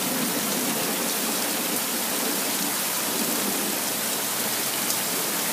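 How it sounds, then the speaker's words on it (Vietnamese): A heavy hailstorm pounds a front yard on an early June afternoon, a dense, steady roar of falling ice and rain that stays loud and unbroken throughout with no voices. "có một cái trận mưa đá rất là to"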